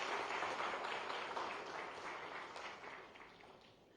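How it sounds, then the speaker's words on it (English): Audience at a government MoU signing ceremony applauds a dignitary, a soft, distant ripple of clapping that starts fuller and slowly thins out toward the end. "Please give sir a round of applause."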